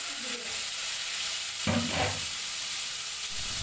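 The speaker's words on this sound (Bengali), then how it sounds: "পনিরের তেলে আলু দিয়ে দেব।" Salted potatoes sizzle loudly in oil left over from frying paneer, a steady hissing fry broken by a brief stir and a clink of a utensil partway through.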